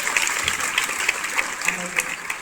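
Schoolchildren clapping their hands together at a Saraswati Vidya Mandir school in Gangoh, a dense, steady patter of many small hands filling the short stretch.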